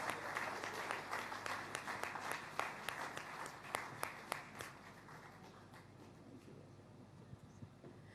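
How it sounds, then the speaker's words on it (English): Audience applause at a faith-focused national Platform gathering in Nigeria on October 1st: a burst of crowd clapping with sharp, loud claps that gradually thins and fades over several seconds. "A round of applause for Pastor Poju and AI for its very helpful assistance"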